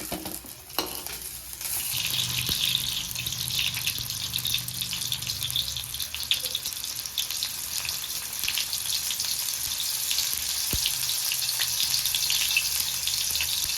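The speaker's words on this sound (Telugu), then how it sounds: "ఇప్పుడు దీన్ని మనం పక్కకు తీసేసుకొని టమాటాలు వేయించుకుందాం." Small tomatoes frying in a pan for raw mango chutney, a steady loud sizzle filling the whole stretch with brief stirring knocks near the start and a few sharp clicks, with no talking.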